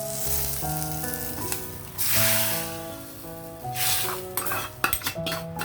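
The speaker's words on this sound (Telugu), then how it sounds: "మరలా నేను ఈ పప్పులోకి తాలింపు వేసేస్తున్నాను" Hot tempering is poured into cooked dal for pappu gongura, giving sharp bursts of sizzle and some clinks of utensils under steady background music.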